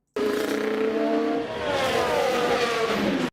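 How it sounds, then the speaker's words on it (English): A Formula 1 car screams past on a straight at Monaco, loud, high-revving engine whine rising and then dropping in pitch as it passes close, alone without talk. "I have to find a sound of an F1 car passing really fast on the straight"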